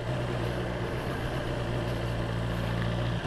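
A 2020 BMW S1000 XR motorcycle engine rumbles low and steady at low revs, continuous and moderately loud, with no talking over it.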